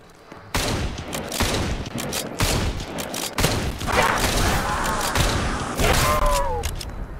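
Kar98k bolt-action rifle fire in a Call of Duty zombies match: a string of loud, close gunshots with repeated heavy bursts across the whole stretch, over dense game noise, with short quieter gaps between volleys.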